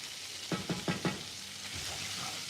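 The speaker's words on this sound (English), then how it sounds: "Stir my pasta." Pasta is stirred in a pot with onions added, giving four quick scraping strokes in a row over a soft background simmer.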